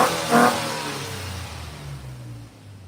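A 1986 Chevrolet C10 truck with a 4.3 V6 engine on a test drive, the engine revving briefly and then settling into a steady low drone as the truck drives on, heard from inside and moderately loud.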